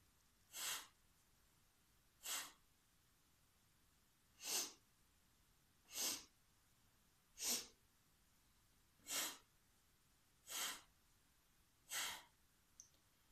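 During a breathing exercise, eight short, sharp breaths come through the nose at an even rhythm about every one and a half seconds. They are close and distinct, with near silence between them.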